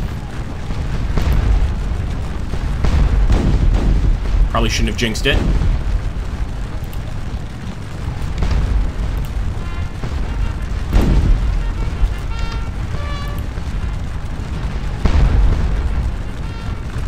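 Cannon fire in a Battle of Waterloo strategy video game, a run of deep booms and rumbles under continuous battle noise, with someone talking over it.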